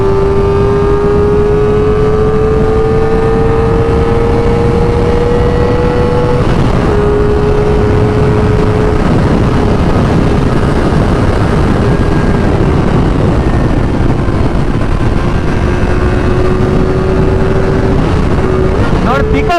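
A Kawasaki ZX4R 400cc motorcycle engine roars close and loud, its whine climbing steadily and then dipping with gear changes, over constant heavy wind rush throughout.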